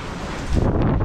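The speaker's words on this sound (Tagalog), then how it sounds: "Lakas yung hangin, ah." Strong typhoon wind gusts roar against the microphone, building into a loud rushing blast about halfway through.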